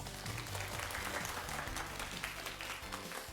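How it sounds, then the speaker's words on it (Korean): A studio audience claps to welcome a guest on a live lottery broadcast, a thick, even patter of many hands, fairly soft, with a faint low tonal hum running underneath. "박수로 환영해 주세요"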